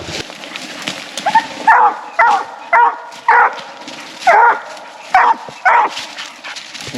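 Fury, a hunting dog working a raccoon trail on public land in Louisiana, barks in a series of about nine sharp, evenly spaced barks at moderate distance over quiet outdoor background.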